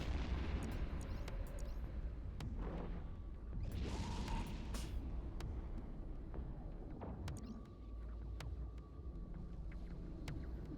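Torpedo barrage explosions in the space game Eve Echoes, with a Raven or Typhoon battleship firing: a continuous rumbling wash of booms and bursts, with a brighter blast near the middle, steady and loud throughout with no talk.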